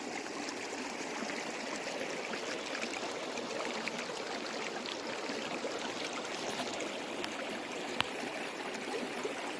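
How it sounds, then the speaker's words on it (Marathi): A clean river in a rural fishing spot flows with a steady, broad rushing wash of water that stays constant and moderately loud throughout, with no voices. "सुंदर बघा नदी वाहते एकदम स्वच्छ पाणी बघा"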